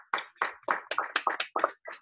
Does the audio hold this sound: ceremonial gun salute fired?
no